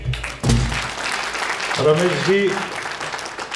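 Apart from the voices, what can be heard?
audience applause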